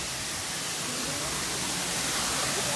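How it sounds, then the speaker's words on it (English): Waterfall at Rock City in North Georgia, a steady broadband rush of falling water that fills the whole clip evenly and loudly, with no voices over it. "I just want to see this beautiful waterfall."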